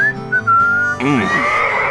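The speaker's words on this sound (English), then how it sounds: "Here's some tunes to whistle on a lonely night." Someone whistles a lonely country tune on the K-Rose radio station in GTA San Andreas, a clear sustained melody that gives way to fuller backing music partway through.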